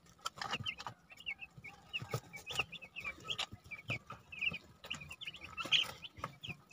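Young broiler chickens suffering from colds peep in a busy flock, with constant high chirping over soft rattly clicks and rustling, heard close and moderately loud throughout.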